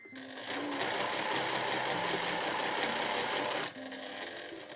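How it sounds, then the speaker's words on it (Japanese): A sewing machine stitches the curved crotch seam of fabric room pants in one rapid, even run of needle strokes lasting about three seconds, then stops, leaving a quiet room. "このカーブの部分をできるだけ布をまっすぐにするようにして縫っていきます。"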